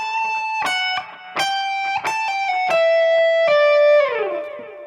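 Electric guitar plays a riff phrase with an effects-coloured tone, no tremolo bar: a run of bright picked notes with slides, ending in a held note that bends downward, clear and alone.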